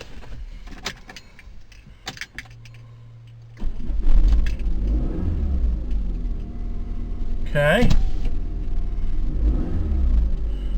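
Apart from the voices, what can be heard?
car engine starting and running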